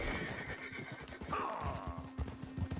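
A horse whinnies loudly up close over a steady rhythm of hooves clip-clopping, with a faint constant hum in the background, in the video game Red Dead Redemption 2.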